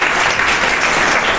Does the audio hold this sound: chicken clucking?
no